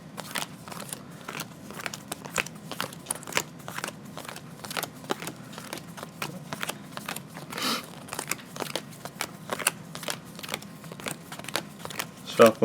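Yu-Gi-Oh playing cards are shuffled over and over, a run of quick crisp riffles and snaps close by, with brief talk mixed in.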